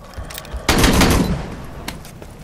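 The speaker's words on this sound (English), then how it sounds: "full auto shotgun" Full-auto shotgun blasting in the Aliens: Colonial Marines shooter, a quick string of loud, dense shots that bursts in after a few lighter pops, then fades with a last crack.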